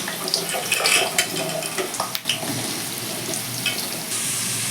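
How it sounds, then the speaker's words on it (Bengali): Potato pieces dropped into hot mustard oil in a wok fry with a loud, continuous sizzle and crackle, close by and steady, with no talking. "কড়াইতে কিছুটা সর্ষের তেল দিয়ে দিয়েছি এবার আমি তেলটা গরম হয়ে গেছে এবার আমি আলুগুলো ছেড়ে দিচ্ছি"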